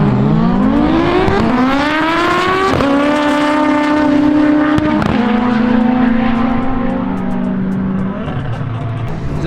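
An all-wheel-drive car roars down a drag strip, loud and close, its engine note climbing steadily through rapid gear shifts with sharp breaks between them, a continuous high-revving wail over the whole run.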